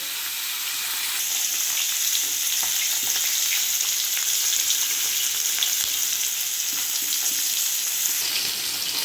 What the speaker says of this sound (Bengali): তেলটা যখন গরম হয়ে যাবে তখন এক এক করে সব মাছগুলো ভেজে নেব